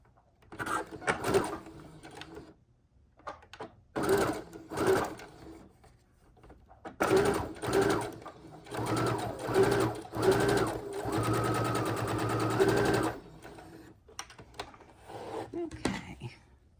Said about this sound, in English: We're simply going to sew straight across.